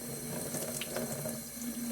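Cold water runs steadily from a tap into a sink outdoors in cold weather, a continuous close splashing hiss with no pauses and no talk over it.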